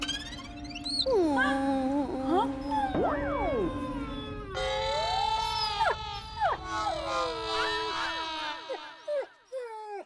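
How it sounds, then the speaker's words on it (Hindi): A dog howls and whines in long, wavering, rising and falling cries that overlap, close and fairly loud, fading out at the end. "वो कुत्ता क्यों रो रहा था वो पता नहीं।"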